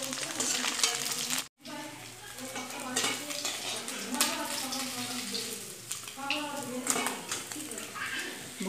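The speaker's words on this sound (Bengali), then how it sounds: "বন্ধুরা, আমার মাছ ভাজা হয়ে গেছে" Fried parshe fish are lifted from a hot pan, with a soft oil sizzle beneath repeated clinks and scrapes of a utensil against the pan, plus a brief silent gap early on.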